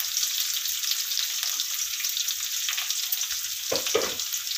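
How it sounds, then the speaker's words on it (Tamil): Ridge gourd stir-fry with spices and asafoetida sautés in a pan, giving a steady bright sizzle with a few soft stirring scrapes near the end, no talking. "இப்போ நல்லா வதக்கி விட்டுறலாம்."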